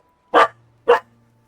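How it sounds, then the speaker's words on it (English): Two loud, sharp dog barks ring out close by, spaced about half a second apart, over an otherwise quiet background. "Don't know what they're barking at."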